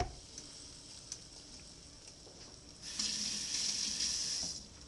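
Running tap water splashes over hands at a kitchen sink, a soft steady stream that swells louder partway through, with no talking.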